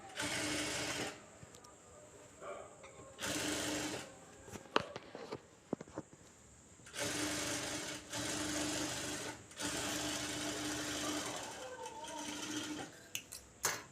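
Domestic sewing machine stitching a blouse in bursts, with several loud sustained whirring runs separated by short pauses and soft handling clicks in between.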